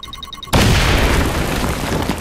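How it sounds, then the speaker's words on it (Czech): A sudden, loud explosion in XCOM: Chimera Squad bursts in after a short electronic beeping, then rumbles and hisses on as a long, noisy decay. "To byl trapný výbuch."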